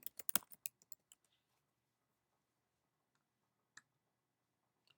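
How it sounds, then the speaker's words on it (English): Quick burst of computer keyboard typing, a rapid cluster of close crisp key clicks that trails off into silence, followed later by a couple of isolated single taps. "Up here, I'm going to type in my domain name."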